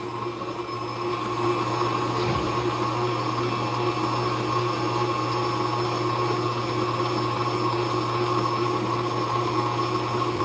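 Electric hand mixer set to speed 4 whirring steadily through lemon pound cake batter, a loud, constant motor drone that starts up and holds for the whole stretch with no talk.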